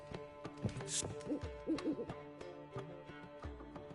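Zoltan's pet parrot in The Witcher 3 gives soft hooting calls, a few low repeated coos under quiet game ambience.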